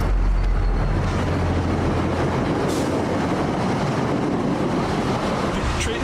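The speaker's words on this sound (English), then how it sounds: "The train came along at about 55 miles an hour and came into the station and ran her over." A commuter rail train passes through a station in Newton, Massachusetts at about 55 miles an hour, making a loud, sustained rumbling roar with windy rushing noise and no speech.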